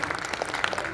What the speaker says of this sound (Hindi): एक बार जोरदार तालियां उनके लिए बजा दीजिए।